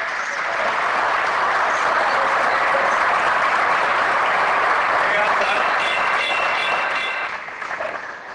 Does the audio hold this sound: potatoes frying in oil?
no